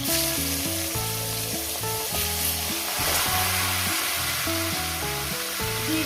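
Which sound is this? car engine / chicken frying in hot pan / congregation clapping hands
chicken frying in hot pan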